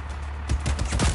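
Shotgun fire in the Just Cause 4 video game: a short burst of loud, booming blasts in quick succession that fills the whole moment.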